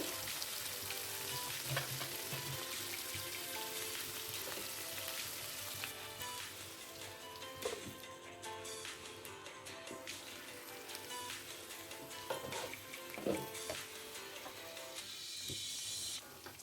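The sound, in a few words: papaya pieces frying in a covered pan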